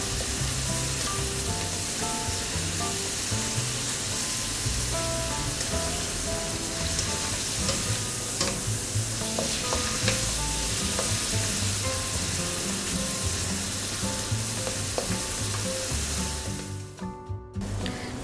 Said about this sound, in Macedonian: И се остава убаво да се пропрши. Додека месото и кромидот не омекнат.